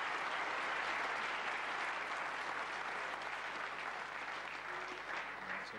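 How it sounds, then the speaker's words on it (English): Audience applause at a snooker match, a steady broadband patter of clapping from a seated crowd that holds evenly for several seconds with no talk over it. "Generous round of applause."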